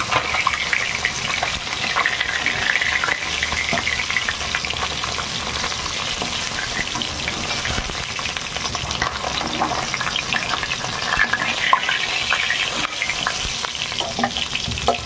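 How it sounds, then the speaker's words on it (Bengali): Fish sizzle and spit steadily in hot oil in a frying pan, a dense, continuous crackle with no talk. "আমি বাদ বাকি মাছগুলো এইভাবে ভেজে দেবো।"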